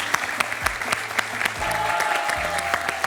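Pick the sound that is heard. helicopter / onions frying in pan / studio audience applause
studio audience applause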